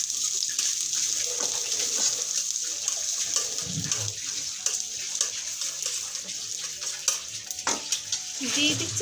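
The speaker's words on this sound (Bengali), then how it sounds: "দিয়ে দিলাম প্যানে তেল আর দিয়ে দিচ্ছি আদা, আপনার রসুন কুচি।" Chopped ginger and garlic frying in oil in a pan for chicken keema, a close, continuous bright sizzle with scraping stirring strokes and occasional clinks, loud and alone.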